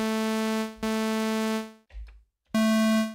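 Buzzy, bright sawtooth-waveform synthesizer tones from a Commodore 64 sound chip, in bursts broken by a short gap with a soft noisy thump.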